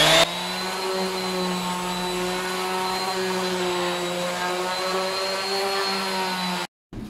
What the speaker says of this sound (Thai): เมื่อสีแห้งแล้วนะครับก็ใช้เครื่องขัดลงไปเลยครับ